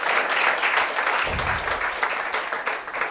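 Audience applause for students at a CUET-ICAR 2025 selection celebration, dense steady clapping filling the room at moderate loudness throughout.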